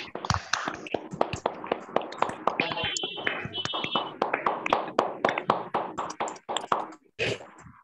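Group applause on a video call, many scattered hand claps of uneven rhythm coming through different microphones, sharp and close, with speech mixed in among them.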